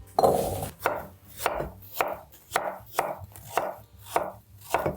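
A kitchen knife chops carrots into diagonal roll cuts on a board, eight or nine even, thudding strokes at a steady rhythm, close and clear with no talking.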